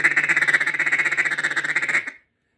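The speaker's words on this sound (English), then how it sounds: "Now that sound might resemble a lot of mallard ducks" A Matt Pierce small bore mallard duck call blown in a fast, loud run of about twenty raspy quacks over two seconds, close and alone, then cutting off abruptly into silence.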